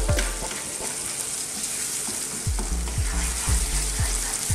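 A quick cream sauce for a chicken, aubergine and Gorgonzola bake is worked in a pan, with steady sizzling and scraping and a few rhythmic low thumps from the spoon against the pan, loud and close with no talk.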